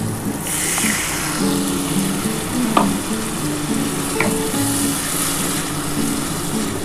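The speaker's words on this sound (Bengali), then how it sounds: "এবার আমি মশলার জলটা দিয়ে দিচ্ছি" Spice water goes into a pan of frying small fish curry, setting off a broad hissing sizzle with a few sharp clinks as it is stirred, close and steady throughout.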